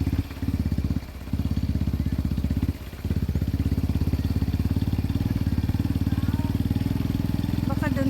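A motorcycle engine runs near a beach resort in Masbate, a close, rapid, even putter that dips briefly twice, with people talking over it.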